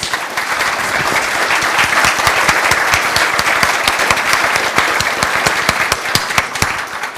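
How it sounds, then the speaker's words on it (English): Sustained applause from an audience at a Cool Davis community talk by Kim Stanley Robinson, honoring the author and the panelists; dense, steady clapping at close range that holds for the full stretch without letup. "If you could give them a round of applause, please."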